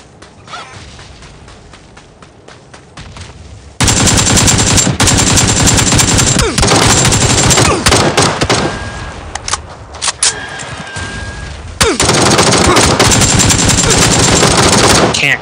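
Loud automatic gunfire in the battle royale game PUBG, long rapid bursts of shots that start abruptly and pound on with brief gaps, close and dominant, with a little faint talk.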